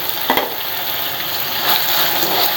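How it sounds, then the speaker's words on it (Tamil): Curry leaves and tomato frying in a pan for wheat-flour pasta masala, giving a steady close hiss and sizzle with faint stirring and no talking. "கருவேப்பிலை இதெல்லாம் நல்லா வதங்கி வந்த உடனே ஒரு தக்காளி"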